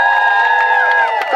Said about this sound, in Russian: Аплодисменты третьему!